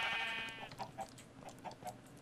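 Sheep in the farmyard video game Barnyard Blitz bleat in a short series of wavering calls, a sustained tone at first then several quick repeated bleats, with no talk.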